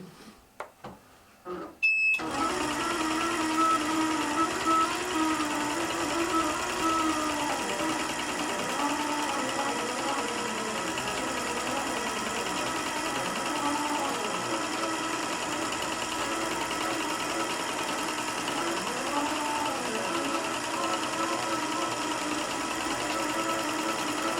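A sewing machine quilting, with top and bobbin threads stitching together. After a brief rattle of starting, it runs as a loud, steady, continuous whir with no voices.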